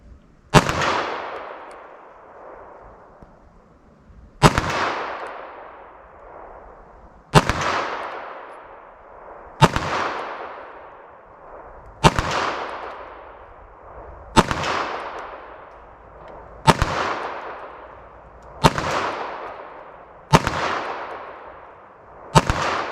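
Nine sharp 9mm handgun shots are fired at a target at an even, unhurried pace. Each loud crack rings out and decays before the next.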